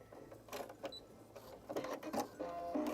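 Sewing machine stitching a lapped zip, running in short bursts of rapid mechanical clatter with brief pauses, close and fairly quiet, with no talk.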